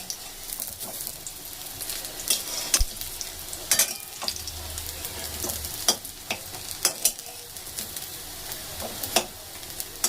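Leftover-rice fritters fry in hot oil, a soft steady sizzle punctuated by scattered crisp pops and occasional stirring scrapes, close by with no talking.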